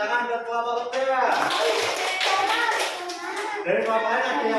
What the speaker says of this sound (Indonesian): Ya, beri tepuk tangan buat kelompok lebah.